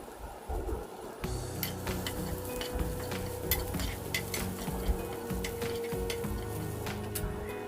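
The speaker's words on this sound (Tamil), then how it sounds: "போட்டு ரெண்டையும் போட்டு இந்த ப்ரௌன் கலராக வர வரைக்கும் பொறிச்சு எடுத்துக்குவோம்" Onions, fennel and curry leaves fry in hot coconut oil for a Sri Lankan sambal, a steady close sizzle broken by frequent sharp scrapes and clinks of a spoon stirring the pan, with no talking.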